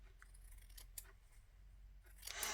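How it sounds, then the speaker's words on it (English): Scissors cut a little strip of paper in a few quiet snips, faint and close in a quiet room, with a brighter rustle of the strip at the end. "I'm just going to cut myself a little strip."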